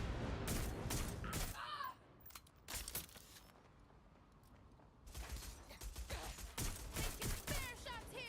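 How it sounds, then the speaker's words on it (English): Bursts of gunshots ring out in Watch Dogs Legion, loud clusters at the start and again after a quieter stretch, with rapid repeated cracks and game ambience between. "Taking spare shots here."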